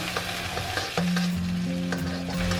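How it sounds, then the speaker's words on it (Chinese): Aromatics sizzle and crackle in hot oil in an iron wok, a steady loud frying hiss with stirring scrapes throughout, no voices. "接下来我们就把料头放上去，给它爆香"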